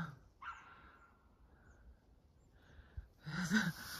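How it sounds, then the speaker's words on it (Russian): A dog on a forest road in the woods near Ukhta, Komi Republic, giving a few short barks and yips, moderately distant, with a louder burst near the end over quiet outdoor background. "Навстречу мне собачка."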